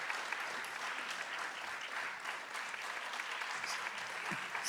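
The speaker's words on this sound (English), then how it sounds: "Give him a round of applause, please" Sustained applause from an audience for a father at a Bharatanatyam arangetram, dense and even clapping throughout, fairly distant in a hall, no voices.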